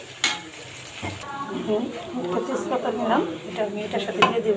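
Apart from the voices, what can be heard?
onions frying in a pan to make beresta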